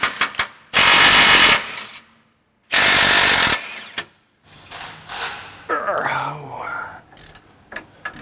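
A 19mm socket unbolts the lash down points from a Toyota 100 Series Land Cruiser. Two loud, sustained bursts of power-tool whirring are followed by metallic clanks and rattling, with some talking in between.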